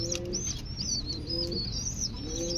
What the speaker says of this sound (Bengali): আর আমি এই কবুতরগুলো বিক্রি করি